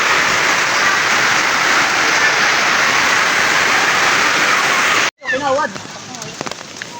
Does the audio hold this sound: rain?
yes